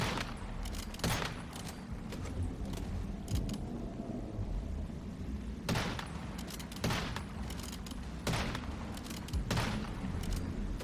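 Gunfire in the survival shooter Once Human, a steady stream of rapid shots and sharp bangs over a dense rumbling backdrop, with several louder cracks standing out.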